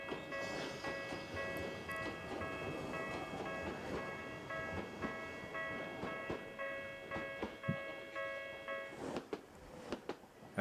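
A train passing in the video game The Silver Case, heard as a quiet, steady rumble of rail cars with a sustained horn-like tone over the clatter. The sound is faint and stays continuous for about nine seconds.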